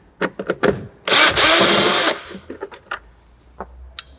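Power driver unscrewing Phillips screws from the tailgate light of a 2005 Subaru Outback, one loud close whir of about a second amid scattered handling clicks and taps.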